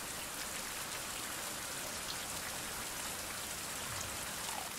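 Steady rain in a survival video game, a dense even hiss of drops falling continuously with no pauses or voices.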